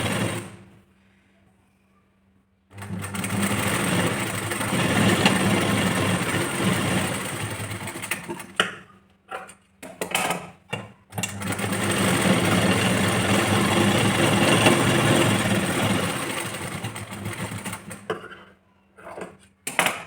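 A sewing machine stitches a double-folded strip onto a blouse, running in two long steady bursts separated by short stops and brief stutters, close and alone.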